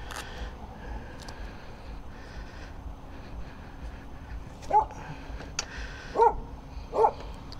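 A dog barks behind a rider on a Yamaha XMAX 300 scooter on a US street, three short, sharp barks standing out over steady traffic and engine noise.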